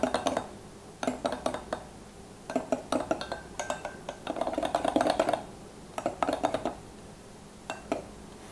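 Belgian waffle batter being mixed in a bowl, irregular bursts of utensil scraping and clinking against the bowl with short pauses, moderately close and without talk.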